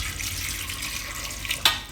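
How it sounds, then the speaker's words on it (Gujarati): Water runs into a pressure cooker that holds washed potatoes, a soft steady pouring wash heard close by, with a brief louder splash near the end. "કુકરમાં નાખી દેવું અને એમાં થોડુંક પાણી નાખી દેવું"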